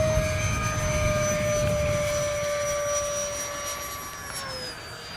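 An E-flite Habu SS 70mm electric ducted-fan RC jet passes at about 80% throttle, giving a steady loud whine with a rushing roar that gently falls in pitch as it moves away near the end.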